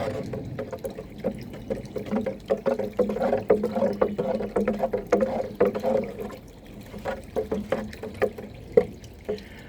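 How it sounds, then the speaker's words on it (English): Water being stirred inside a watering can after a pond treatment was added, giving a close series of irregular sloshing and swishing splashes that keep going steadily without a break. "we filled the watering can with water, and I've already put some in, so we'd give it a stir"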